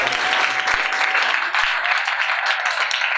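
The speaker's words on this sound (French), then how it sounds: "Je voudrais qu'on acclame Messieurs et Madame Bouki, veuillez vous lever et qu'on acclame cette personne." A roomful of guests at a civil wedding breaks into sustained, loud applause, a dense wash of clapping that carries on steadily throughout with no gaps.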